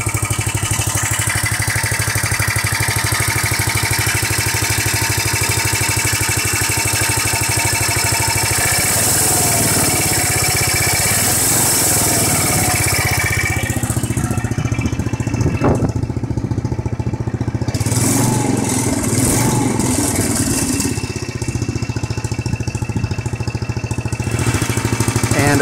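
A Snapper rider mower engine running steadily after starting, a loud close mid-pitched drone with a rattle that shifts slightly partway through.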